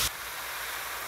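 Airbrush spraying red paint onto a wooden fishing lure, a steady close hiss of compressed air and atomized paint running unbroken from a brief louder burst at the start.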